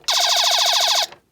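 Lakeside Electronic Intercept, a vintage electronic war strategy board game, sounds its successful-attack alarm: a single one-second burst of rapidly pulsing, shrill electronic warbling, loud and close, then cutting off abruptly.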